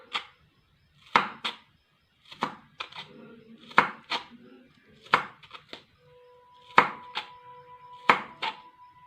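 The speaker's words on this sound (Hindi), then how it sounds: "ऐसे आप बिग स्लाइस काट लेंगे जैसे चिप्स के लिए काटते हैं।" A crinkle cutter slices potatoes into large chip-style pieces on a board, giving sharp separate chopping knocks in an irregular rhythm, close and fairly quiet, with a faint high tone in the background.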